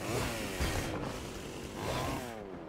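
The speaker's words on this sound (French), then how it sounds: "Est-ce que je peux monter là avec la tronçonneuse?" Chainsaw in the Fortnite video game, a steady buzzing motor drone with harmonic revving that surges and dips across the whole stretch, loud and continuous with no talk over it.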